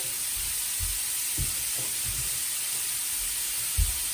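Beef sizzling and hissing steadily in a hot pan, close and continuous, with soft scraping thumps as it is stirred.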